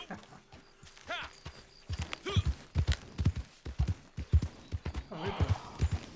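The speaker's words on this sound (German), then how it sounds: "hier ist nur ein Pferdchen" Horse hooves clip-clop in a steady, fairly close rhythm while a single horse is ridden in Red Dead Redemption 2 on PS4, with a brief whinny and background game sounds.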